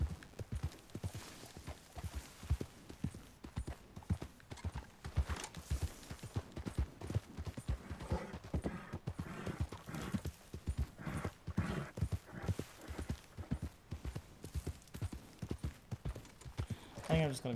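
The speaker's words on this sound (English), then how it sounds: "I guess I can gallop down here and see." A horse gallops in the video game Red Dead Redemption 2, its rapid rhythmic hoofbeats continuing steadily throughout, with a brief whinny near the end.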